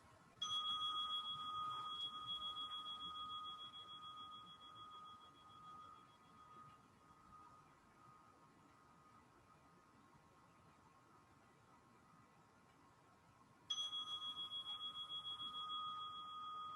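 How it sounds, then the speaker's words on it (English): Two meditation bells ring out to close a session, each a single clear struck tone that lingers and slowly fades, the second arriving about thirteen seconds after the first, in a quiet room. "you're going to hear 2"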